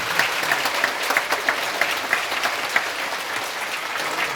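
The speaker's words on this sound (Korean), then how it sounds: "다시 한번 두 분께 큰 박수 보내주시죠" Concert audience applauds two performers at the Gumi Culture and Arts Center, a dense steady wash of many hands clapping with a few sharper individual claps standing out over 4 seconds, fairly loud and without talk.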